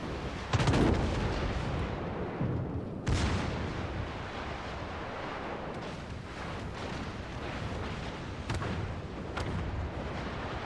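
Battleships trade fire in a naval warfare video game: heavy booming salvos burst out repeatedly over a continuous rumbling din, with sharp loud blasts near the start and around three seconds.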